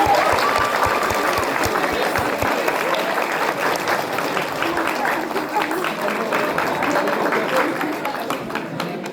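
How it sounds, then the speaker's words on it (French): Dense crowd applause at a cosplay contest, loud and sustained from the start and easing slightly toward the end, with scattered voices mixed into the clapping. "Applaudis."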